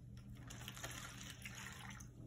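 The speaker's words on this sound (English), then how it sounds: "I poured vinegar into one cup, and I'm gonna put it into a sandwich bag" Vinegar poured from a cup into a plastic sandwich bag, a soft steady trickle of liquid running for a couple of seconds at low volume with no talk.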